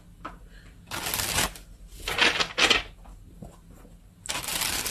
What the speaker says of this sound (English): let's get a few tarot cards and see what this is about